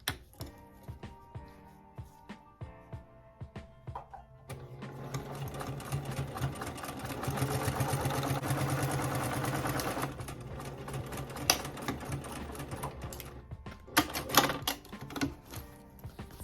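A sewing machine top stitches African print fabric for a pouch, running in a fast, even mechanical patter. The stitching picks up and gets louder in the middle section, with pauses and small clicks around it.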